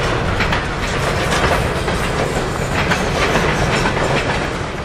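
Norfolk Southern hopper freight train rolling past steadily, a loud continuous rumble and wheel clatter on signaled track near Bellevue, Ohio, with no voices.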